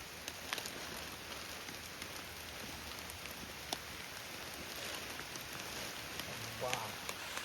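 Steady rain falls through a forest in the dim early evening, a dense even patter and hiss with occasional louder drops close by.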